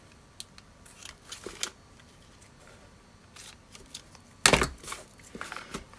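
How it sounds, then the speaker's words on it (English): Scissors trim a gift ribbon on a gingerbread house box, making a few soft, close snips and rustles, with one louder crisp cut in the middle and quiet handling noise around it. "The ribbon's a little big, so let's trim it a little."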